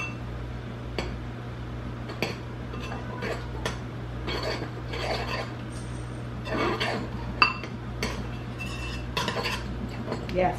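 Metal utensil stirring a hashbrown casserole in a pot in a home kitchen, scraping and clinking in irregular strokes against a steady low hum, fairly close.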